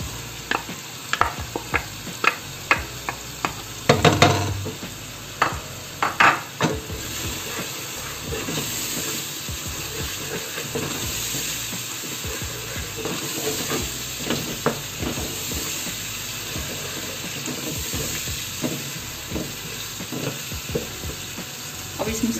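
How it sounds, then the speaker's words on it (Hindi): Tomato and spice masala sautéing in a pan for black chana, a steady sizzle with repeated scraping stir strokes, louder clatter around the fourth second, continuing close and even throughout. "अब इस मसाले को अच्छा सा भूनेंगे।"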